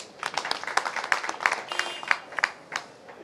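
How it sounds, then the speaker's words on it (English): Audience clapping at a homecoming event for a victorious Ugandan athletics team, scattered sharp claps from several people building into irregular applause, moderately close and lively, with no talk over it. "Can you clap for that?"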